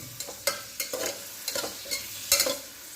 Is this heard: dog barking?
no